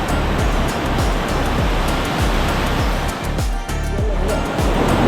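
Rainwater from the hills above pours down a rock slab as a waterfall, a steady, close, broadband rushing roar with a rhythmic churning pulse running through it.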